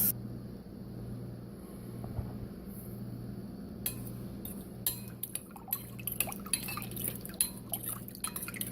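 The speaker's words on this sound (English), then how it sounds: "Now I'm just going to stir this until it's dissolved." Sugar stirred into 4 cups of water for hummingbird food, with a spoon clinking and scraping against the container in a string of sharp taps that grows busier in the second half, over a faint background hum and no talk.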